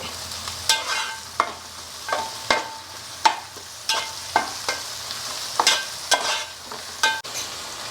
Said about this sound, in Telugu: కొంచెం పసుపు అల్లం వెల్లుల్లిపాయ వేగేదాకా కొంచెం పచ్చివాసన పోయేదాకా వేయించుకోండి